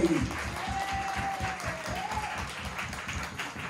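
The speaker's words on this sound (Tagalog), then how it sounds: "Pumalakpak ang may dalawang kamay!" A church congregation claps together during a Sunday service, a dense, steady patter of many hands that carries on throughout, with a voice briefly heard over it.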